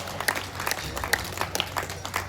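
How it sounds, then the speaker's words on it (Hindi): Scattered claps come from an audience at a Hindi poetry reading at an all-India kavi sammelan in Bhagalpur, light and uneven over a short stretch with no voices. "कविता समाप्त हो गई, तालियां बजा दीजिए"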